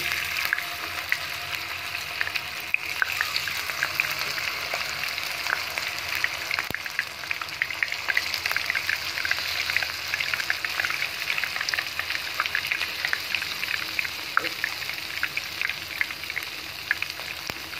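Water lily flower pakoras fry in hot oil with a steady, dense sizzle and crackle that runs without a break from start to finish, fairly close, with no talking over it.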